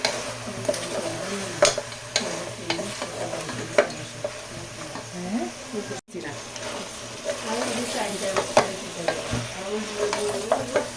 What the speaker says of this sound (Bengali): এখানে আমি হলুদ মরিচের গুঁড়ো দিয়ে দিলাম ধনিয়া পাউডার দিলাম একসাথে করে দিয়ে দিয়েছি এখন আর একটু কষিয়ে নিচ্ছি